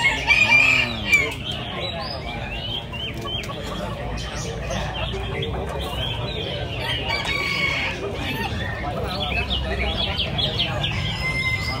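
At a Vietnamese ornamental chicken show, a rooster crows loudly near the start, then clucks and calls amid a continuous murmur of crowd chatter and an announcer's voice.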